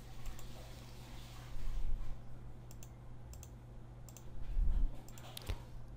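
Several sharp computer mouse clicks in small clusters, quiet and close, over a faint steady hum with no talking.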